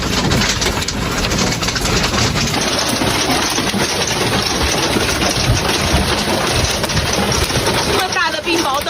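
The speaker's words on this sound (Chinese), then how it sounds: "这么大的冰雹豆，" Large hailstones, reportedly pigeon-egg sized, pound a parked car during a violent convective storm in Wenquan County, with rain falling too; the dense, continuous loud clatter fills the whole clip and a voice speaks over it.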